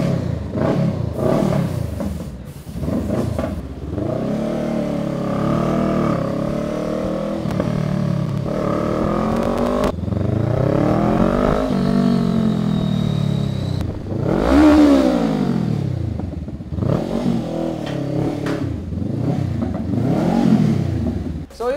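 A Honda Rebel 500 motorcycle engine revs repeatedly up and down, loud and close, with rising and falling pitch sweeps and a clattering idle between throttle blips.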